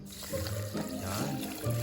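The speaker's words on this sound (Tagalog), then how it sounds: "lagyan mo ng tubig" Water poured into a pot of rice for cooking over an outdoor fire, a short, steady splashing pour heard up close with no talking.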